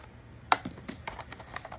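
An extra strip of tape being snipped off, giving a few quiet, close crisp clicks and snips, one sharper cut standing out among lighter taps.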